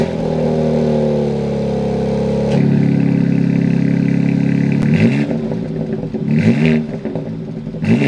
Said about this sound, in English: We're going to get a couple of outside of the car sounds